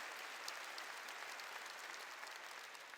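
A church congregation clapping together during a worship service, a faint but steady wash of many hands heard from a distance, without other sounds.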